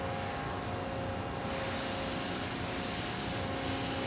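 A rifling broach pushed through a lubricated M16 rifle barrel makes a steady, even scraping hiss that runs unbroken for about four seconds, close and fairly loud, with no talking.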